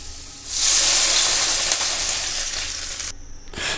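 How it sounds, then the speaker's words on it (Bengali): Water poured into a pan of frying potatoes for a bitter gourd, potato and fish curry, bursting into a loud, steady hiss and sizzle that holds for several seconds, then briefly cuts out and returns. "এবার আমি জল ঢেলে দেব।"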